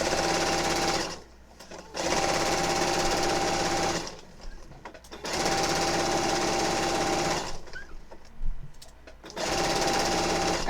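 A sewing machine stitches a zipper onto fabric in loud, fast bursts of rapid mechanical chatter, three long runs separated by short pauses filled with faint handling noises.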